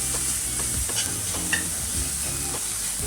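Sprouted matki (moth bean) sautéing in hot oil with hing in a Maharashtrian usal, a steady sizzle with the scrape and knock of a spoon stirring the pan several times.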